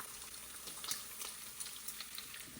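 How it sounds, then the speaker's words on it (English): Eggs frying in butter in a pan: a steady, even sizzle with faint crackles, close and continuous, without talk. "Okay, we're gonna start doing the eggs."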